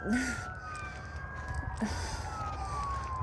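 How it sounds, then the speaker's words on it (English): Siren wails heard during an evening walk outdoors, a long tone gliding slowly downward with a second higher tone, moderately loud over steady street background noise. "Sirens."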